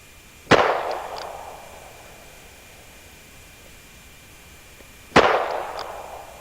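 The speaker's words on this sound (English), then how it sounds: "I'm going to look at that front sight hard and clear and squeeze the trigger." Two handgun shots with light loads, a sharp loud crack each, several seconds apart, with a brief echoing decay after each in an outdoor range setting.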